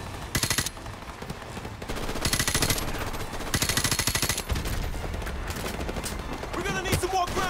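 Rapid automatic gunfire from a first-person shooter, Call of Duty: Modern Warfare Remastered, rattling in dense bursts with short pauses between them and a busy battlefield mix behind, loud and close throughout.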